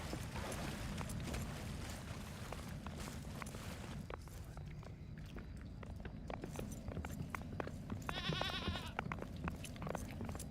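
A goat in the video game Return to Moria lets out a short, fairly clear bleat near the end, over quiet footsteps and clip-clopping hooves with a low background drone.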